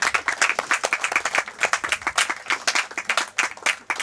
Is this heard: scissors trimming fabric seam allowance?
no